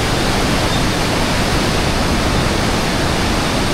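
The Langtang river rushing along a Himalayan trail in Nepal, a loud, dense, unbroken roar of whitewater filling the whole clip.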